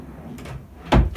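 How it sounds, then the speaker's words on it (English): A push-pull full-extension drawer in handmade wooden storage steps slides and closes, a soft low rumble followed by a loud, near bump as it shuts, with a faint knock after. "each of the 3 steps in the middle has a push-pull drawer, which, well, it's working really nicely"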